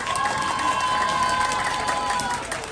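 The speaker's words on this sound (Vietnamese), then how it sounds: "xin quý vị một tràng pháo tay ạ." Wedding guests at a marriage ceremony clap and cheer in a busy, crowded hall, with a sustained tone that sounds like music underneath and lively crowd noise throughout.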